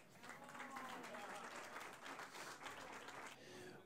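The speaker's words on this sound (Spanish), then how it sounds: "Un aplauso" Guests at a civil wedding ceremony applaud as a small child brings the rings, a steady spread of clapping from many hands, quiet in level and easing off near the end.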